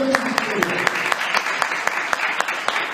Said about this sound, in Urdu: پرزور تالیاں ہو جائیں گی